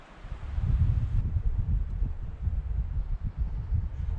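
Wind buffets the microphone outdoors during a moose hunt in a continuous low rumble with gusty surges, rough and loud throughout, no other clear sounds on top.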